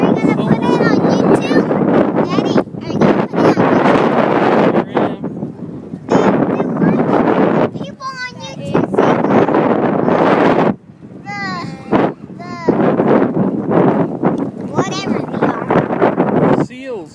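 Strong wind buffets the microphone at Monterey's Fisherman's Wharf in California, a loud continuous roar with brief lulls, while adults and someone talk nearby.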